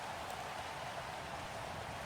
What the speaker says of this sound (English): Rain game. I don't love receiving in the rain